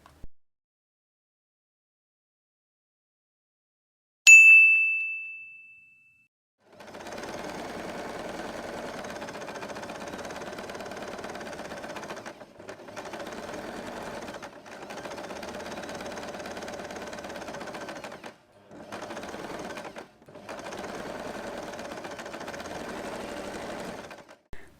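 A sewing machine stitches the strings into a fabric drawstring bag in several steady mechanical runs with short pauses between them, following a single bright ding, near and moderately loud, with no talk.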